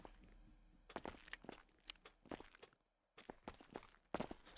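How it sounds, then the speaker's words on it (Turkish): Footsteps approach in a horror video game, a run of soft, irregular treads and scuffs at moderate volume with a brief silent gap midway and no talking. "birilerinin ayak sesini duyuyorum"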